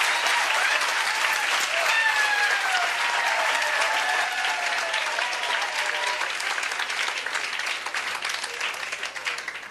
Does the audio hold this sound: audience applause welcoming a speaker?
yes